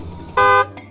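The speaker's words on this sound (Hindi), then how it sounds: "भजन उसके पीछे हॉर्न बजाते हुए परेशान कर रहा था।" A single car horn blast sounds on a forest road, loud and steady for about a quarter second, followed by a fainter short toot, with no talking.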